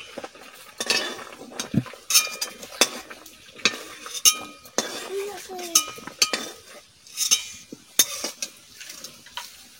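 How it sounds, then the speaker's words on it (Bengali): Clinks and scrapes of metal utensils against a pot as it is covered and boiled taro is lifted out, with irregular knocks and rattles up close, alongside a few faint sizzling sounds. "ঢাকা দিয়ে দিচ্ছি, কচু তুলে নিচ্ছি, কচু একদম সিদ্ধ হয়ে গেছে।"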